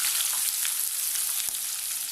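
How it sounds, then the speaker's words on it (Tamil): Finely chopped large onions fry in a pan with lentils already browned in the oil, giving a steady soft sizzle with faint crackles, close and on its own. "நல்லா வெங்காயம் வதங்கட்டும்."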